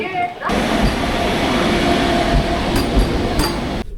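Vande Bharat train 20978, bound for Ajmer via Rewari and Jaipur junctions, stands at a station platform with a loud, steady rumble and hiss. A few faint clinks and voices mix into the din, which cuts off abruptly at the end.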